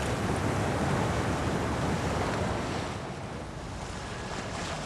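Wind and breaking ocean waves roar around a solo racing sailboat on a round-the-world record attempt in towering seas, a dense, loud, steady rush with no voices.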